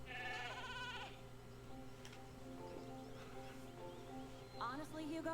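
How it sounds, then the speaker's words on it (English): Sheep bleat in the Skylanders video game, with wavering cries at the start and again near the end over game music, while voices talk between them. "they're just sheep"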